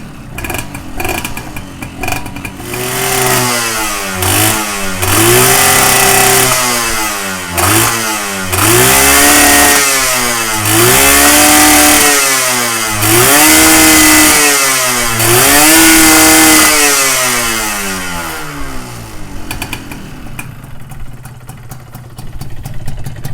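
A Yamaha 125Z two-stroke motorcycle after servicing with an old rusted spark plug, starting and revving repeatedly in loud rising-and-falling bursts up close, then dropping back before cutting out near the end.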